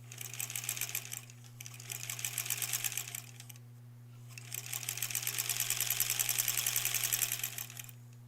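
A sewing machine stitches pieces for a Granny Squares quilt border in two steady runs of rapid needle chatter with a short pause between them, over a constant low hum, with no voices.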